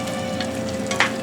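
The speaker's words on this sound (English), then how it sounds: "I'm just going to give the contents a stir to make sure, you know, it's all evenly getting heated." Apples cooking in a pot for applesauce sizzle steadily while being stirred, a continuous soft bubbling hiss with a brief scrape of the spoon near the end.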